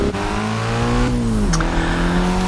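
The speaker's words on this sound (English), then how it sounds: "Here comes the Lamborghini, looking behind, it's just a speck." A Lamborghini race car in Forza Horizon 4 roars loudly past, its steady engine note dropping as it sweeps by with a gear change, alone without talk.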